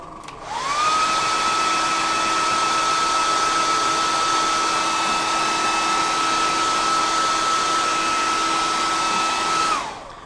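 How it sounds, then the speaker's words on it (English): A hairdryer blows on lacquer paint on a scale model. It makes a steady, close, whining rush that switches on, holds for about nine seconds and cuts off, with nothing else heard. "I'll give it a quick burst with the hairdryer, so just bear with me."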